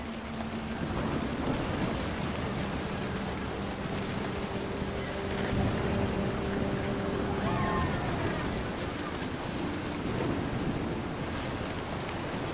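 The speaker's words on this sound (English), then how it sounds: "The thunder sounded much too close and full of angry power." A thunderstorm in the video game What Remains of Edith Finch, with steady rain hiss and low rumbling thunder swelling midway, heard at moderate level for several seconds.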